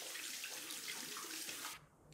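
Water running steadily from a tap into a sink as a face is rinsed, a continuous broadband splashing rush that cuts off abruptly near the end, leaving a quieter room.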